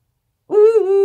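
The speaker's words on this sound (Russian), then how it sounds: "Дурацкая сова." A pet owl indoors gives a single short, clear hoot after a moment of silence, loud and close, with a steady tone that holds to the end.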